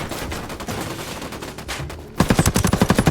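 Rapid automatic gunfire bursts out in a third-person shooter video game, a sharp rhythmic string of loud shots following a quieter stretch of muffled game ambience and distant action.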